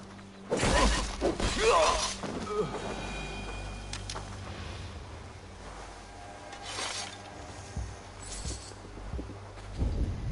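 A tower is brought down in a PS4 video game: a loud burst of shattering and crumbling debris, then scattered rubbling, grinding and smaller crashes as the collapse settles.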